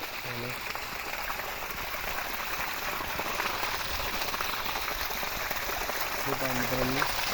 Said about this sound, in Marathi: अशा पद्धतीने हे सोलर आपलं पाणी मारत आहे